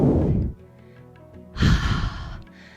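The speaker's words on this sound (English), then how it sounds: "Take a deep breath in, inhale. And on the exhale, twist." Deep exhale during a seated yoga twist in a hatha class, two long audible breaths, a heavy sigh-like release then another breath after a short pause, close to the microphone.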